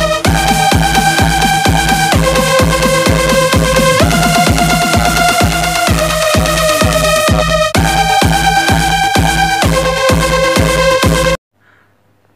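Electronic DJ beats from a sound pad in a mobile app play loud and continuous, a layered looping pattern of pulsing bass, synth tones and percussion that changes every couple of seconds before cutting off abruptly near the end.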